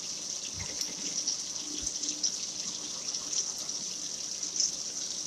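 Water runs in a thin, steady trickle while being poured into grits in a home kitchen, with faint clinks and knocks from nearby utensils.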